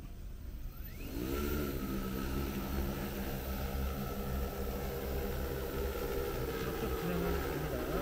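Drone motors spin up for takeoff during a drone license training session, a steady multi-tone buzzing whine that starts after a second and holds loud and continuous, with faint voices in the background.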